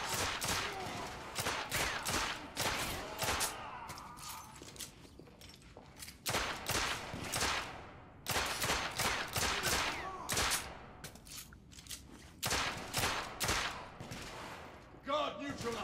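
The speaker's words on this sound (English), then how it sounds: "Having a pistol firefight" Pistol firefight in The Order: 1886, with sharp gunshots cracking in irregular clusters throughout, loud and close, some rapid volleys overlapping, with brief lulls between bursts.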